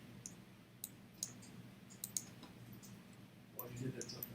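A computer mouse clicks while faces are colored in SketchUp, giving several faint, sharp, scattered clicks at close range before a voice starts speaking near the end.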